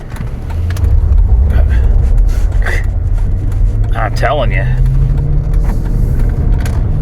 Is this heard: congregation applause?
no